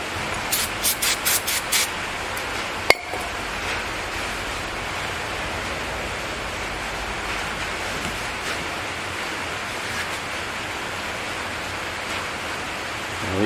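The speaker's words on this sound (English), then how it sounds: "spray it with some brake clean" A steady, hissing spray of brake cleaner runs continuously at close range on the rear brakes of a 2008 Ford Edge, preceded by a few short bursts and a sharp click.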